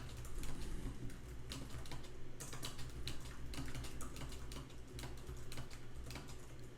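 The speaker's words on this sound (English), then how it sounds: "let's just start typing a long message" Steady, rapid typing on a computer keyboard in a browser, a continuous run of close, crisp key clicks with no talking.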